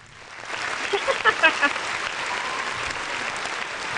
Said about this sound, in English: if we could have a round of applause for Kayla